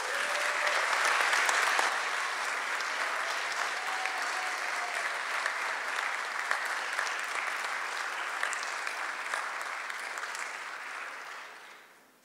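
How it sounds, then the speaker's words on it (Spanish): Strong audience applause at a book presentation welcoming a woman scientist, a loud sustained wash of many clapping hands that holds steady for several seconds before tapering off at the end. "Recibamos con un fuerte aplauso a la doctora María Magdalena Vázquez González."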